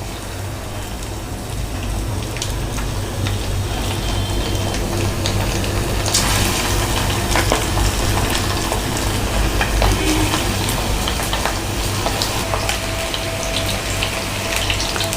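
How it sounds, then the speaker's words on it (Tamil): Boneless chicken pieces deep-frying for restaurant-style chilli chicken give a loud, steady crackling sizzle that runs unbroken from start to finish, with no talking. "நம்ம எல்லா சிக்கனையும் ஃப்ரை பண்ணி தனியாக எடுத்து வச்சுக்கலாம்."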